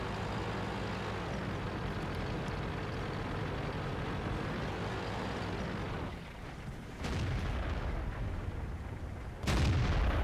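Tank cannon fire in the World of Tanks video game from a T-54 tank: a steady, loud engine and battle rumble, then two sharp, booming shots near the end, the second louder, with no talking.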